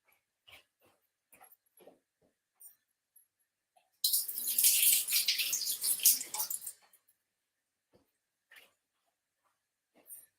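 Running water from a tap splashes for about three seconds while someone quickly washes up in a kitchen, set between faint clicks and small handling noises in an otherwise quiet room.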